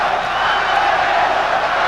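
A large boxing crowd at the Aaron Pryor versus Alexis Arguello fight roars and cheers in a dense, sustained wash of voices that holds loud and steady throughout.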